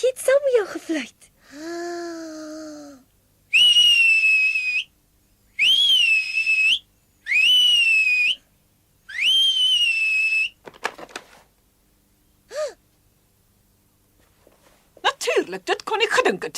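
Several loud, shrill finger whistles, some rising and falling, in separate bursts with pauses between, and brief voices at the start and end.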